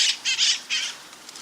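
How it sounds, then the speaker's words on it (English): Harsh parrot squawks in quick succession mixed with the flutter of flapping wings, close and loud, then fading into quiet. "It looks like we have a half a dozen parrots still."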